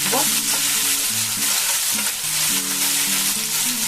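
Cornflour-coated soybean chunks frying in hot oil for chilli soybean, giving a steady, close, loud sizzle with stirring, while background music plays underneath throughout.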